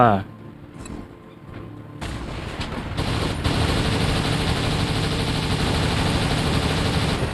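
A combat robot explodes amid heavy gunfire in the War Robots mech shooter game: a sudden loud blast cuts in around two seconds, then dense, sustained explosive and weapon noise continues to the end.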